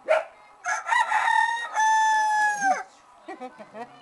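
A rooster crows loudly and close, one long cock-a-doodle-doo after a short lead-in, followed by softer clucking sounds.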